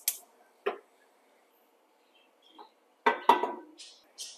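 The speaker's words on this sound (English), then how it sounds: "Test your tongs and make sure they work" Metal kitchen tongs clicked open and shut a handful of times near a hot stovetop, sharp isolated clinks spaced out over a few seconds with quiet gaps between.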